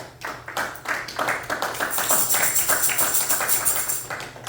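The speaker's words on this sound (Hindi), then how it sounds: "अपने लिए जोरदार तालियां बजा दीजिए।" A church congregation at a Pakistani Urdu-language service claps together in a steady, fairly loud run of hand claps that swells and carries on for several seconds.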